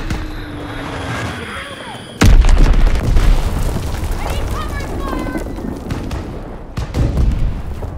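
Enemy bomb explosions in Call of Duty WWII on the Flak Tower map: one sudden heavy boom, then a long rumbling roar and a second blast near the end, with game voice callouts and gunfire around them.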